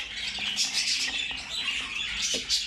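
Pet birds, including yellow males and Japanese birds, chirp and squawk together in a busy, continuous twittering close by, with no talking.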